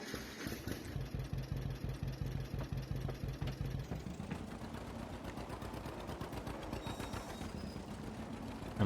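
A John Deere tractor engine idles in Farming Simulator 22 with a rhythmic low chugging pulse, then settles into a steadier, slightly brighter mechanical rattle, close and alone.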